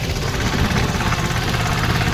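Tractor engine running close by, a loud continuous low rumble with steady vibration and no talk.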